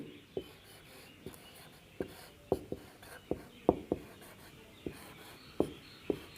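Writing out a matrix explanation during a Class 9 mathematics lesson, a series of short, sharp scratchy strokes at an uneven pace, close and clear over quiet room tone.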